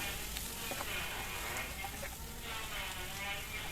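Tomatoes and spices being stir-fried in a pan, a steady soft sizzle with occasional light stirring scrapes, fairly faint and continuous with no voices.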